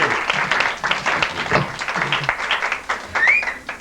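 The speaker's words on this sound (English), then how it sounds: "Let's have a big round of applause for Chester." Audience clapping at a 1989 cabaret-style variety show for a performer named Chester, uneven and moderately loud, with a short rising whistle from the crowd near the end.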